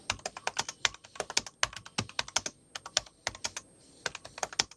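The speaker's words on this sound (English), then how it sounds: "we get a fully mechanical Cherry keyboard on this laptop, and just listen to how amazing it sounds" Rapid clacky keystrokes from the mechanical Cherry keyboard of an MSI Titan 18HX laptop, typed in quick bursts with short pauses, close and crisp with no talking.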